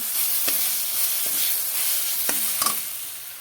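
Spice paste frying in oil in a pan while cooking a fish curry with ridge gourd and potato, a steady close sizzle with a few light utensil clinks and scrapes.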